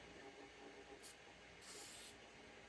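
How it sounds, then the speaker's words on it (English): An aerosol spray can hisses onto a 3D printed pistol part in two close bursts, a short one and then a longer one, over a quiet room background. "pretty much all you need to do is just spray one part like so"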